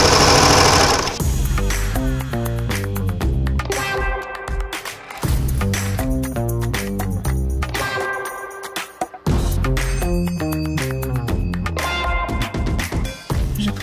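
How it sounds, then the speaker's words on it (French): A sewing machine runs a zigzag stitch through fabric, a loud close mechanical rattle in fast even bursts with short pauses between runs. "vous pouvez tout simplement utiliser le point zigzag à la machine"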